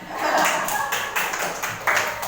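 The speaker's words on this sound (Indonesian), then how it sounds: "jadi dan tepuk tangan untuk semuanya" A group clapping hands at a school teachers' session, a short burst of uneven, fairly close claps coming in loose clusters.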